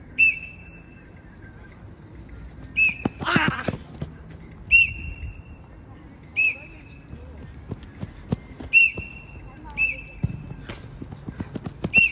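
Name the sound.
coach's whistle during training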